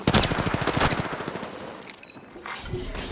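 Rapid automatic gunfire from the battle royale video game Apex Legends, loud and close, rattling in dense bursts through the first second before thinning into scattered distant shots.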